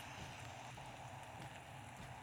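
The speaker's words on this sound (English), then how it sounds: "It's the acid rain." Acid rain falls in a Roblox disaster survival game, a continuous soft patter and hiss of rain that stays faint and steady throughout, with no voices.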